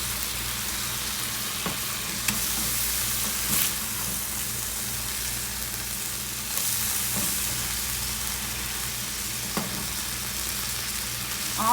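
Frozen fish fillets freshly flipped in a skillet hiss with a loud, steady sizzle throughout, broken only by a few faint clicks, with no voices.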